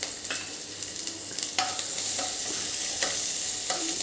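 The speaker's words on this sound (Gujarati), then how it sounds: "થોડુંક આપણે સાંતળી લેવાનું છે એક કે બે મિનિટ જ" Ginger, garlic and finely chopped chillies sauté in a pan for veg manchurian, a steady sizzle running throughout with occasional scraping stirs from a spoon, fairly close and with no voices.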